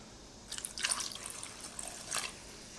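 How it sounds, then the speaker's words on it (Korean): Cooked pasta is rinsed under cold running tap water for a chilled matcha pasta dish: two short, fairly faint bursts of splashing and dripping water, with quiet pauses between and no talking. "오늘은 냉 파스타이다 보니까 파스타를 찬물 샤워를 해줄 거예요."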